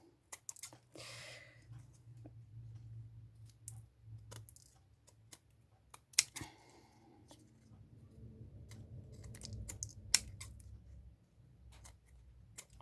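Scissors snip away excess paper from a star-shaped handmade Stampin' Up card in a quick series of short, close cuts, with a low background hum underneath and no talking.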